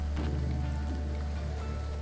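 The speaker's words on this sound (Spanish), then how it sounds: "Curioso que esté lloviendo." Rain patters steadily in the video game Graveyard Keeper, a soft even wash over a constant low hum, no talking.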